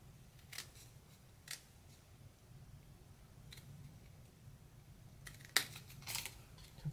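Scissors snipping through a paper card, a few faint, sparse clicks and cuts at close range, with a couple of sharper snips near the end over low background hum.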